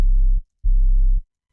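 Two sustained sub-bass tones form the low-end layer of a kick before any fade is applied. Each is a deep, steady hum lasting roughly half a second, ending abruptly with a short gap between them.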